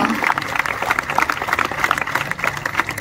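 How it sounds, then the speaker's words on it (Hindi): Loud, dense applause from an audience at a spiritual discourse on Mother's Day honouring mothers and soldiers, continuous clapping throughout with faint voices beneath. "उन सब के लिए भी जोरदार तालियों से"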